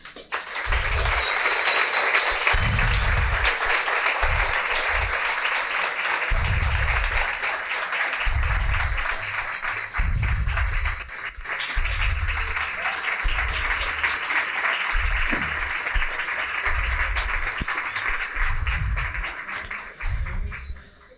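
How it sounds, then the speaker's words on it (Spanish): An audience claps loudly and steadily to welcome Ola Bini onstage, with bursts of cheering and low voices woven through the sustained applause, which fades slightly near the end. "pido que le den un fuerte aplauso al señor Hola Bini"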